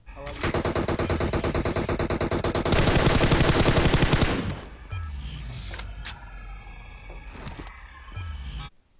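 Rapid bursts of automatic gunfire in PUBG Mobile, loud and close, rattle for several seconds, then scattered single shots and game effects follow with a voice talking underneath.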